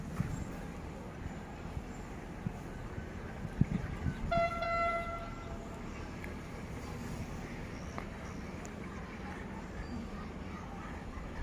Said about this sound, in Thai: ตอนนี้ขบวนรถก็มาถึงแล้วนะครับ